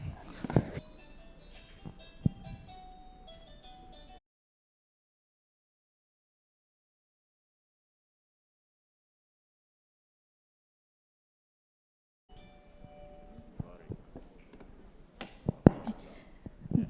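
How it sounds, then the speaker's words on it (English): An electronic school bell at a secondary school debate rings out a tonal, chiming melody for a few seconds, then stops; after a long silence, scattered clatter and knocks follow. "The bell is still working"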